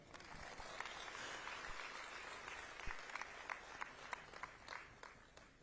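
Audience applause at a public development project inauguration event in Navsari, a sustained wash of many hands clapping at moderate distance, with sharper individual claps standing out toward the end.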